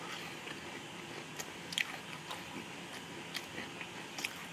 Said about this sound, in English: So, I'm going to try this cereal real quick. With some milk.